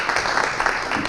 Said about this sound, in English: So big round of applause for Mark.